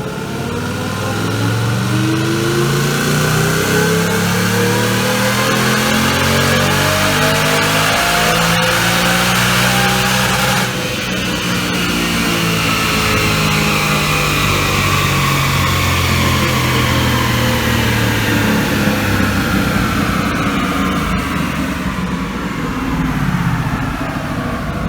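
A 2018 Ford Mustang GT 5.0 V8 with a Whipple Stage 1 supercharger roars through a full dyno pull. The engine stays loud and continuous for the whole run, its pitch climbing steadily as it winds up, with supercharger whine riding on top and no talking.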